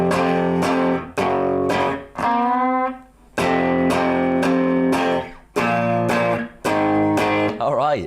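Slow distorted electric guitar power chords from a song, chugging in short repeated strums with brief pauses and a sliding, ringing chord in the middle, loud and close with no voice.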